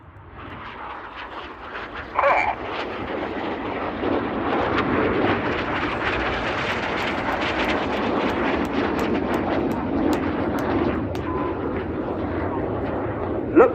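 Red Arrows jets fly a display manoeuvre at RIAT 2024, a loud, broad jet roar that swells in and holds steady for many seconds, with a commentator's voice partly audible under it.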